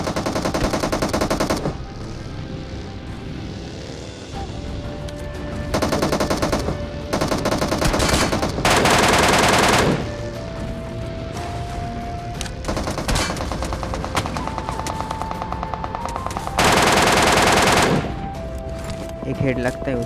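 Gunfire in PUBG Mobile: loud bursts of automatic weapon fire that come and go over about twenty seconds, with steady game background between the volleys.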